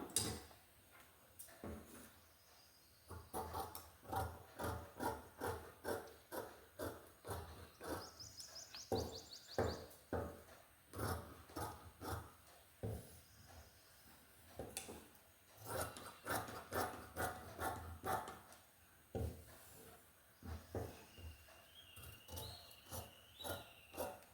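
Scissors cut fabric along a marked boat-neck back piece of a princess-cut blouse, giving repeated close snipping and rasping strokes in steady bursts, with no talk.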